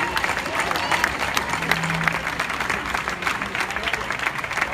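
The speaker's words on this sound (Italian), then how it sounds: "Fate un applauso" Audience applauding at the Parma Calcio 1913 youth team presentation, sustained crowd clapping outdoors with scattered cheers, and a speaker talking over a loudspeaker partway through.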